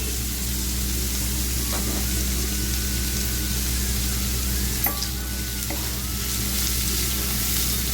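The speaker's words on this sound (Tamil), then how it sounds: "நல்லா வதங்கி வரட்டும்" Mint rice mixture sautés in a pan with a steady broadband sizzle, punctuated by a few soft stirring scrapes, close and continuous with no talking.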